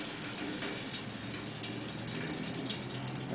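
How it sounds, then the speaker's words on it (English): Chain on a prototype wave generator pulling a flywheel through a ratchet, giving a steady close mechanical whirring clatter with dense rapid ticking throughout, no voices. "Wave goes out, pulls the flywheel, relaxes, wave goes out, pulls it."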